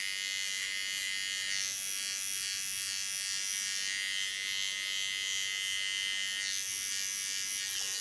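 An electric hair clipper buzzes steadily and continuously while cutting hair into a short pixie style, a close, even hum with no talking.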